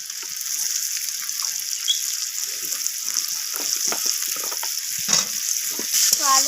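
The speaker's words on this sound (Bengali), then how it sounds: "তো আলুগুলোকে নাড়াচাড়া করে পেঁয়াজের সাথে ভেজে নিচ্ছি" Potatoes and onions sizzle in hot oil with a steady, close frying hiss, punctuated by soft scraping and stirring knocks of a spatula in the pan.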